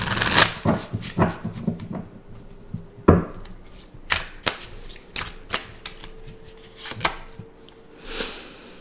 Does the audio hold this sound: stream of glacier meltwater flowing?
no